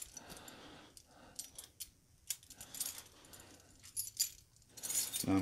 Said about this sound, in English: We're gonna see if we can get this lock off right here with those keys.